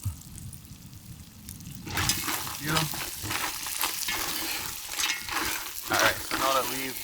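Curry crab seasonings sauté in a pan outdoors on a Jamaican beach. After a quieter start, a loud, close sizzle breaks out and carries on with stirring scrapes, and a voice briefly surfaces near the end.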